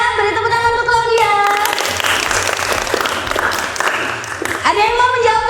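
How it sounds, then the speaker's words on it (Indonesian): Classroom applause for a student after her acting performance, a burst of clapping heard between stretches of voices talking. "beri tepuk tangan untuk Claudia"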